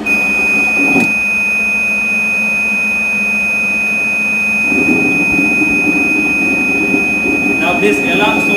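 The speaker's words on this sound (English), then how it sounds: "This alarm shows the dielectric level is very low" An EDM machine sounds its low dielectric fluid level alarm, a steady continuous high electronic tone running throughout with machine hum beneath it and a voice talking over it.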